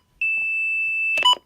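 A single long, steady electronic beep sounds from a version 5 weather radio whose tuner is failing, then a short burst of two-tone tones follows at the end. It is clear and alone.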